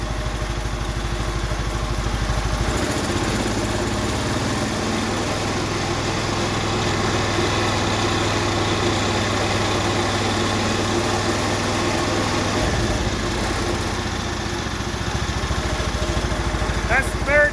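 Case XC210 riding lawn mower, revived after sitting over fifteen years, runs with a steady, loud engine drone throughout, with belt slippage noted, a lower rumble joining briefly in the middle before fading.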